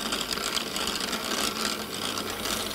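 A machine winds cotton weft bobbins for weaving, giving off a steady, fast mechanical whir and rattle at constant level, close by and with no talk.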